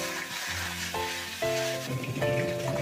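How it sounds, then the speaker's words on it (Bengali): Bhola fish frying in hot oil in a wok, a steady close sizzle with crackling spatter, punctuated by tonal scraping squeaks as the pieces are moved. "এই কড়াটায় মাছ ভাজছিলাম"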